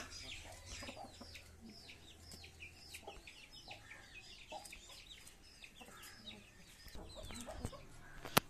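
A broody hen clucking in short, repeated calls with other chickens chirping nearby, a quiet farmyard scene ending in a sharp knock.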